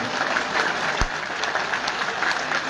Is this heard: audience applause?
yes